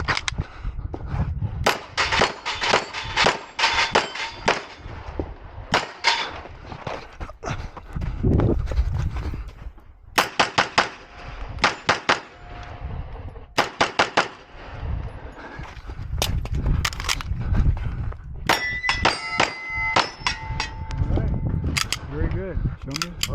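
Rapid P320 pistol shots ringing off steel targets during a competitive shooting match stage, sharp cracks in quick strings with short pauses between bursts, loud and close, with brief voices mixed in.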